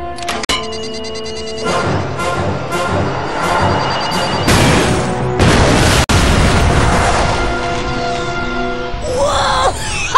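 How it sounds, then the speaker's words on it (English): A loud in-game explosion from Ratchet & Clank: Deadlocked, with a sharp initial blast followed by a series of booming bursts and a sustained roaring rumble across the clip, topped by a sweeping effect at the end. "Check out that explosion! That was awesome!"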